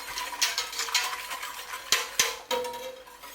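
A spoon stirs broth into hot oil in a pot, with close scraping and clinking strokes over a soft bubbling sizzle in an irregular rhythm, no talking.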